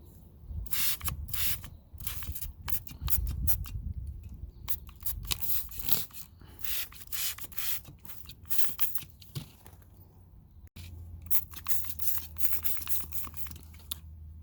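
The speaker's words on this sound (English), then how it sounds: "I'm just going to spray it as evenly as I can with the water." Repeated short bursts of a spray bottle misting water, close up, with brief pauses between squirts and rustling handling noise.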